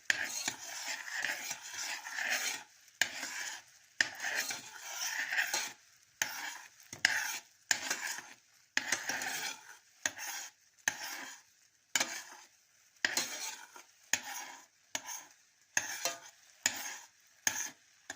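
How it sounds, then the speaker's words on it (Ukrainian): A spoon stirs sugar melting into hot dark caramel in a pot on a gas stove, with repeated scraping strokes in an irregular rhythm and soft sizzling, close and fairly quiet, with no talking. "Помішуємо цю рідину, щоб не приставала до дна."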